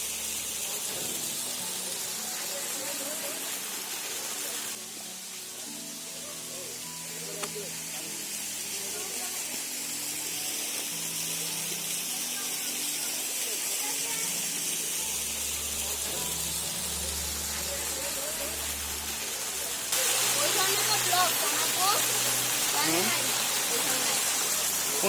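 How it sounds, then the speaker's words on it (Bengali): Water falls steadily at Risang waterfall in Khagrachari during the low-flow winter season, a continuous hiss and splash heard from close range without a break. "আশা করি আমার সাথে আপনারাও ঝর্ণা থেকে পানি পড়ার শব্দ শুনতে পাচ্ছেন।"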